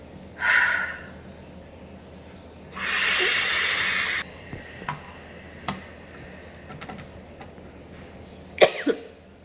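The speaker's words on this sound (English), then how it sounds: "now when I cough, it actually sounds kind of raspy" A single harsh, breathy cough rasps out near the mic, followed by a longer hissing exhale and scattered small ticks and clicks in a quiet room.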